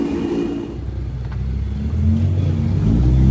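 Two-stroke motorcycle engines revving hard, close by, with a buzzing, rising drone that grows louder and thicker in the final second as more throttle comes in.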